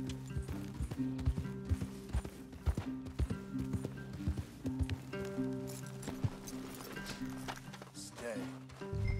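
Rhythmic clip-clop of horse hooves on hard ground in Red Dead Redemption 2, steady and fairly close, with clanking mechanical sounds and a low musical drone underneath.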